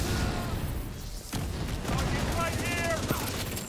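Rapid automatic AK rifle fire in a first-person shooter game, sustained bursts with a brief pause, under game noise and faint background sounds.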